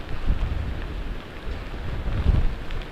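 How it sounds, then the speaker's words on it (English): Strong gusting wind of Tropical Storm Eta in Sarasota County, Florida, roaring steadily into the microphone with heavy low buffeting and louder surges, rain pouring alongside, no talk over it. "You can see just how windy it is, and it is pouring and it is cold."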